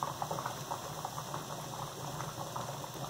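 A pressure cooker heats on a heater while bottling hamburger, giving a steady, close bubbling and hissing rush with a faint constant tone, no talk, ending abruptly.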